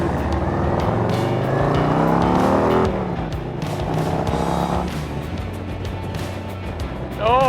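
2024 Harley-Davidson Road Glide with aftermarket exhaust revving hard in sport mode, engine pitch sweeping up and down through gears with loud throaty roar and wind rush, heard up close from the rider's position.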